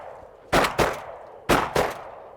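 Two pairs of sharp, loud shotgun blasts fired by duck hunters out on the water after pintail, each pair following quickly, with quiet outdoor background between and no talking.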